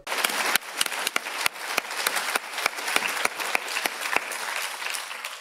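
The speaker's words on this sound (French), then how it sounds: "Nous vous applaudissons encore." Applause from an audience at a French-language event about animal welfare, a sustained wash of clapping with a few sharp, distinct claps standing out, fairly steady throughout and without speech.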